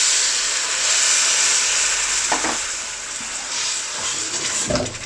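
Water is poured into a hot pan of frying spices for a methi chicken curry, with a steady hiss and sizzle throughout and a couple of brief splashes and clinks near the end.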